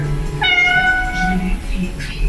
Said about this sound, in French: notre chat est monté